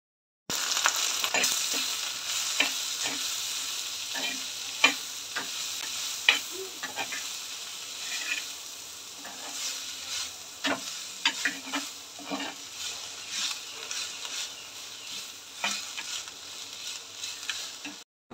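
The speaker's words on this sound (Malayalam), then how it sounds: "ഇതിലേക്കൊരു 3-4 സവാളയും കൂടെ ചേർത്ത് കൊടുത്ത് ഒരു ഇച്ചിരി ഉപ്പിട്ടിട്ട് ഇതൊന്ന് നമുക്ക് വഴറ്റിയെടുക്കാമേ" Onions with three or four garlic cloves and a pinch of salt sauté in a pan for a Kerala kadala curry, a steady sizzle broken by frequent scraping stirs and spoon taps, close and fairly loud throughout with no talking.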